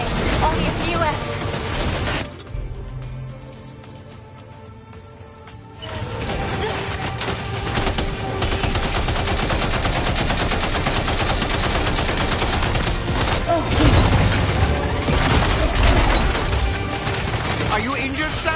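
Dense, continuous gunfire from the video game Death Stranding 2's final mission, loud machine-gun bursts and crashes over a battle soundscape, easing briefly before resuming, with voices shouting over it.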